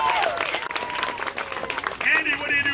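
A circus audience in Sun Prairie breaks into applause for a volunteer, clapping heard under a performer's talk and a brief high whistle-like squeal, the claps fairly light and mixed with voices.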